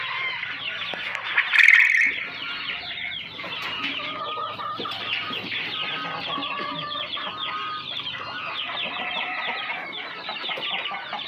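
Several domestic hens cluck and chatter continuously nearby, with a brief louder squawk early on among the steady murmuring.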